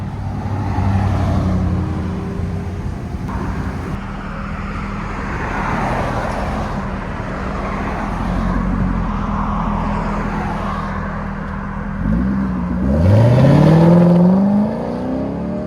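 A 2006 Chevy Corvette C6 with a 6.0-liter V8 and a Borla S-Type exhaust rumbles at idle, then revs hard near the end with a rising, throaty roar close by.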